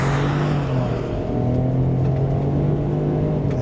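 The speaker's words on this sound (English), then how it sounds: "we're gonna take off here. 1, 2, 3, and on the throttle." A 2021 Ford Bronco Sport pulling away under throttle, its engine hum steady and loud from inside the cabin with road noise underneath, the pitch holding fairly even as it accelerates; no one speaks.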